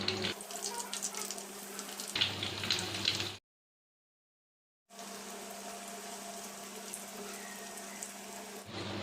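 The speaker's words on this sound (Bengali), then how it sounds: "এখানে আমি সাদা তেল গরম করে নিয়েছি। এবার আমি পনির স্টিকগুলো ছেড়ে দেব।" Paneer sticks hiss and sizzle in hot white oil, a steady close frying crackle that cuts out briefly to silence partway through and then resumes.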